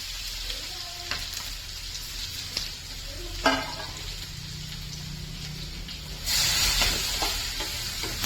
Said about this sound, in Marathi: जिरं आणि ही फोडणी चांगली तडतडली